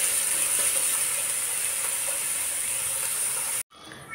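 Sliced onions sauté in a hot pan for Arabian kabsa, giving a steady, close sizzling hiss that runs evenly for several seconds before cutting off abruptly.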